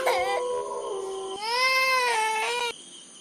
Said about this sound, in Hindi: तभी उसे किसी बच्चे की रोने की आवाज सुनाई देती है।